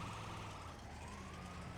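An ambulance siren in GTA 5 wails faintly with a slow rising and falling pitch under a dense, steady wash of game noise throughout.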